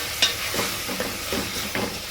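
Spinach goes into a hot pan and fries with a steady hissing sizzle, punctuated by a few soft stirring scrapes, close and fairly loud.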